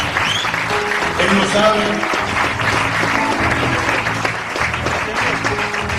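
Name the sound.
audience applause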